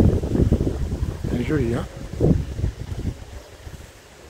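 Strong wind gusting outdoors on a cloudy day along a long hiking stage near Lacanau, roaring steadily against the microphone while a person speaks briefly over it.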